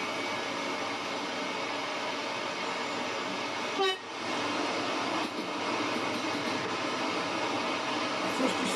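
A train in Train Sim World 5 runs on the London to Brighton line, a steady rolling rumble and rail noise near Clapham, with a brief horn-like tone cutting in midway.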